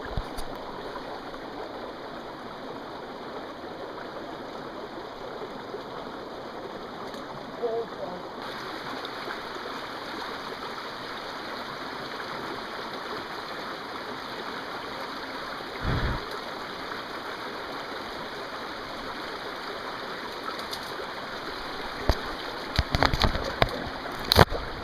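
Water rushes steadily from a waterfall and stream beside a wet forest trail, a constant broadband wash with brief nearby rustles and handling noises toward the end.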